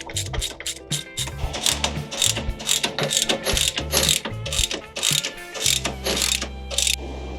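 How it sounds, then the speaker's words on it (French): Rapid mechanical ratcheting from a hand ratchet loosening axle link bolts on a Nissan Patrol Y60 during a suspension lift, clicking in quick bursts throughout, close and fairly loud, with no talk. "ce que je vais faire éventuellement, c'est desserrer tous mes axes de tirant de pont, devant, derrière, et mes amortisseurs."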